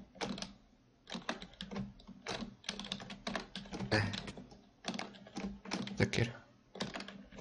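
Keys clatter on a new computer keyboard in rapid, uneven bursts of close clicks, with people talking over the typing throughout.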